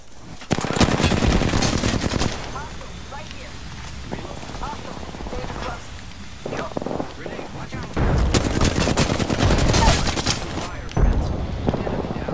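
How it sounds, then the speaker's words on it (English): Bursts of rapid enemy gunfire in a video game crackle loud and close, heavy volleys at the start and again later, with players talking in between. "They're shooting at me."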